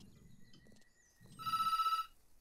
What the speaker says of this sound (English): Your phone's ringing.